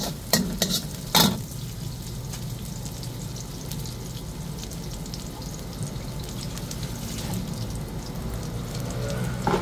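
Sardines, onion, garlic and cabbage sauté in a pan for a breakfast dish, giving a steady close sizzle and hiss. A few sharp clinks of a utensil against the pan come early, then the frying continues evenly on its own.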